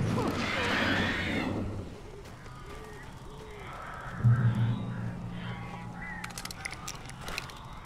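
Crows caw inside a cabin in Alan Wake Remastered, a few harsh calls rising over a low droning game ambience, with a louder crash-like burst partway through.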